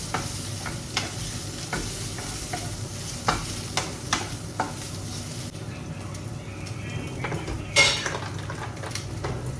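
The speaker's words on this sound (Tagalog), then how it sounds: "Igisa ko na lang siya dito sa kaunting oil ng pork belly." Food sautéed in a small amount of rendered pork belly oil, steady sizzling under repeated sharp clacks and scrapes of a utensil stirring against the pan, close and continuous.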